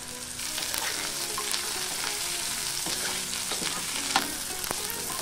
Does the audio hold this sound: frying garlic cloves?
yes